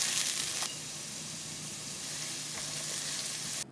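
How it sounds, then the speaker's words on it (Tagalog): Water spinach stalks sauté in an unwashed pan with oil. A loud initial hiss settles into a steady, moderate sizzle that runs unbroken, then cuts off abruptly near the end. "Kasi igigisa na din natin yung gulay dito."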